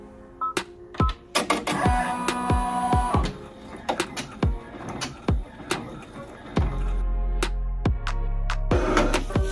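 An embroidery machine sews a placement stitch on a hoodie, making rapid mechanical clicks and taps in uneven bursts, with a whirring run and heavier thumping toward the end.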